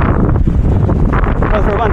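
Wind buffets a microphone on a sunny bike ride in Tagaytay, a loud, steady low rumble with gusty swells throughout.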